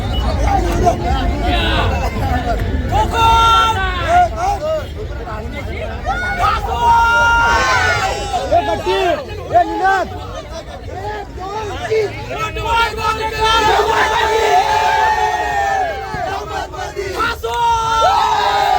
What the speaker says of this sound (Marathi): तर जल्लोष बघताय, जल्लोष हा विजयाचा जल्लोष आहे